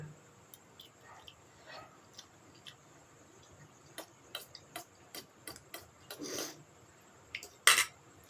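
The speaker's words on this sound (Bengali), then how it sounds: "এখন থালা বাসন দেবো, কমসে কম অনেক থালা বাসন।" Dishes, plates and pots clink and clatter in a home kitchen in sharp, scattered knocks, building to a louder burst of clanks near the end, with quiet room sound between.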